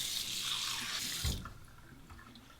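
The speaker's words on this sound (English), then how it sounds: "I'm going to warm it up under the hot water." Hot water gushing from a tap into a ceramic shaving bowl, a loud hissing splash that cuts off about halfway with a low thump, followed by faint drips and handling sounds.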